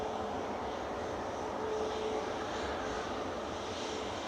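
Engines of a Ryanair Boeing 737 MAX 8200 jet airliner at Manchester Airport, a loud continuous broadband roar holding steady throughout with no voices over it.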